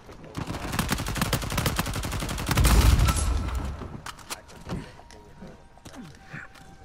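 Rapid bursts of gunfire in the Uncharted 4 video game, a dense run of repeated shots that swells loudest around the middle and then thins into scattered cracks and softer impacts.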